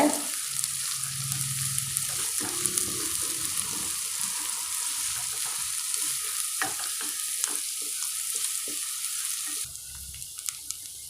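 Onions, curry leaves and green chillies sautéing in a pan for prawn thokku, a steady low sizzle with scraping stir strokes running throughout, close and moderately loud with no talk.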